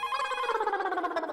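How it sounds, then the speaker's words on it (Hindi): A telephone rings with a steady electronic ringtone, repeating tones pulsing evenly and clearly with no talk over it. "फोन आया।"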